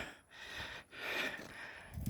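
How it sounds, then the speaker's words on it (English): Heavy, rhythmic breathing from a hiker climbing uphill, close to the microphone, with long breathy exhales and short pauses between them, no talking. "I'm really breathing."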